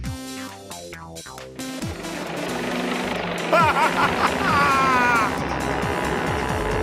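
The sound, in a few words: helicopter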